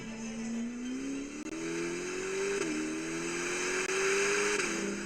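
A deep V8 engine drones steadily and loud, its pitch climbing in stages as it accelerates through gears, with brief dips at each shift.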